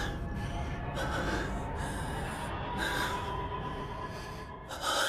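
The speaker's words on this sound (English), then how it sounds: "instead we got people obsessed over Gojo's breathing" Heavy breathing from Gojo, the anime character in Jujutsu Kaisen: loud, close, gasping breaths that run on without pause, rising and falling in waves with no talk.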